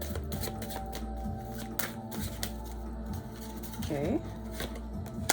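Tarot cards being shuffled by hand during a reading, quick papery riffles and taps close up under a soft hum, with a brief spoken word.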